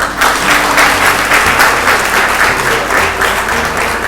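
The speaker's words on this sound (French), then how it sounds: "mettre à l'honneur M. Idrissa Sow Gorkodjo, que je vous demande d'applaudir très fort." Loud, dense audience applause at a book fair event, steady clapping from a crowd close by that holds at full strength throughout.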